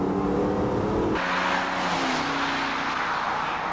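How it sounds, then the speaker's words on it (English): A car with an AODE automatic transmission upshifting at three-quarter throttle, its engine droning loud and close, then dropping abruptly in pitch at a shift point as the revs settle and climb again. "Then try some upshifts at 3/4 throttle to see if the clutches and band are in normal condition."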